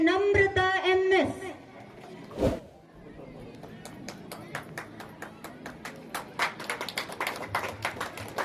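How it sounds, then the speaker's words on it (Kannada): A gathering of children and guests claps in congratulation for Kumari Namrata, a national bravery award winner, with scattered claps building into a rhythmic round of applause after a voice speaks briefly at the start. "ಅಭಿನಂದನಾ ಪೂರ್ವಕ ಚಪ್ಪಾಳೆ ಕುಮಾರಿ ನಮ್ರತಾಳಿಗೆ"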